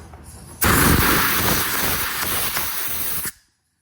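A loud, close blast of compressed air blows out a wheel during refinishing, a continuous forceful hiss lasting about three seconds that starts and stops abruptly.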